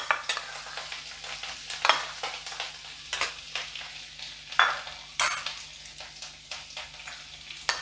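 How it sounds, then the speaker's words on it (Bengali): A spoonful of grated ginger fries in hot oil in a wok, with a steady sizzle and repeated scraping stirs and clinks of a utensil against the pan, fairly close and without any talking. "এবার আমি তেলটা গরম হলে প্রথমে এর মধ্যে 1 চামচ পরিমাণ গ্রেট করা আদা দিয়ে দিচ্ছি"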